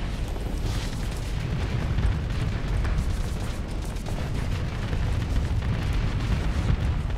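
Bombs explode in the space game Starsector as a continuous, dense rumble of blasts and booms that stays loud and steady throughout, with no talk over it.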